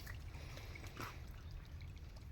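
Water flowing from a small spring in the woods, a steady close rush and trickle with no talking.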